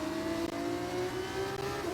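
Formula 1 race car engine in the racing game F1 25, a steady high-pitched whine holding near-constant pitch with slight dips, continuous and close throughout with a brief louder burst at the very end.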